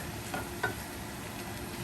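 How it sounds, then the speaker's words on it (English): Onion, pork and bacon sizzle steadily in a hot pan, a constant frying hiss with a couple of faint stirring scrapes, close by and without voices. "So we're frying all the onion,"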